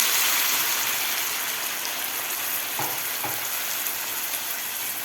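Stuffed bitter gourd with green masala cooking in a pan over a medium gas flame gives a steady, close sizzling and frying hiss throughout, with a couple of faint clicks and stirring touches and no talking.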